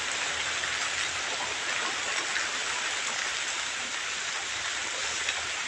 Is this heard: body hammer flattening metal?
no